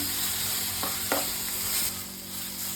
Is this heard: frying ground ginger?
yes